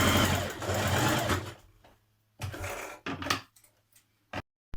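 A sewing machine stitches a line along a skirt pocket seam in loud continuous bursts, a long run followed by several shorter stop-start stretches with brief silent pauses between them.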